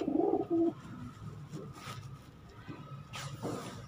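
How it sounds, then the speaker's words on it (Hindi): Pigeons on a rooftop coo in low, throaty, repeated calls, close and clear, with some faint background noise between the coos. "प्योर जेन्युइन एक नंबर कमग्गर कबूतर है जी ये।"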